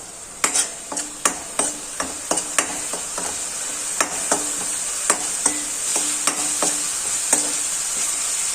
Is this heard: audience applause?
no